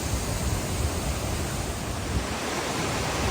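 A waterfall near Kozhikode rushes continuously as a loud, unbroken roar of falling water, heard close with no pauses or voices.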